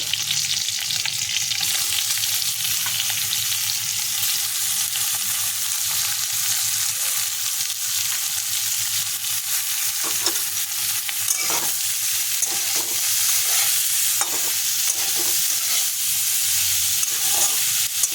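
Prawns and potato chunks frying in oil in a pan, a loud continuous sizzle with a spatula stirring through it, the scraping strokes coming in a loose rhythm in the second half, close up.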